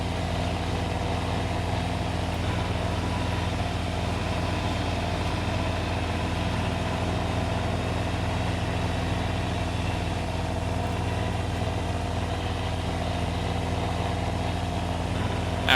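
Steady, unbroken idle of a tractor engine in the farming game Farming Simulator 2013, a constant low rumble at moderate level with no change in pitch or rhythm.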